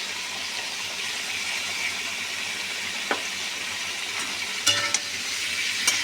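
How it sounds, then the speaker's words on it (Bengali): Meat and a spice paste loosened with water sautéing in a pan, a soft continuous sizzle with a few sharp clicks of stirring toward the end, no talking. "দিয়ে আমি এখন কষে নেব।"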